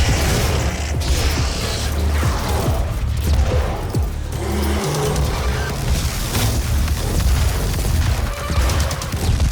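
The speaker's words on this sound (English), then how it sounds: "We're gonna toss grenades." Grenades are thrown and explode in the shooter Doom (2016): dense, loud booms and metallic clanks over a churning game soundscape, with no talking.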